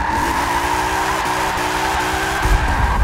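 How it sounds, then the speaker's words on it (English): A torquey V8 race car engine in Forza Motorsport 7 holds a steady loud drone, its pitch stepping through gear changes, with tire noise and a louder rumble near the end. "You just feel that big old damn torquey V8 in there"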